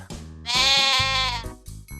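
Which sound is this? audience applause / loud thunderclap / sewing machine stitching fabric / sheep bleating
sheep bleating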